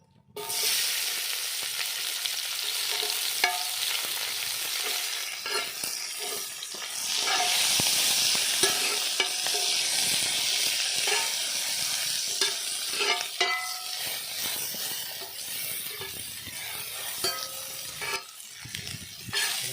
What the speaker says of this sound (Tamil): வெங்காயம் நல்லா வதங்கி ப்ரௌன் கலரில் மாறி வரட்டும்.